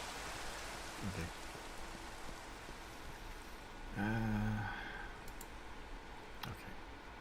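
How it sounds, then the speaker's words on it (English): Steady rain falls in the Minecraft video game, a constant hiss of patter at moderate level, with a brief voice rising over it midway. "Yep, it's raining."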